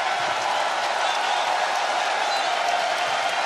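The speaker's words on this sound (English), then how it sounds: "Listen to this crowd come alive for Bandido" A pro wrestling arena crowd at an AEW event roars in a steady, dense wash of cheering and applause that holds at a constant level throughout, with no talk on top.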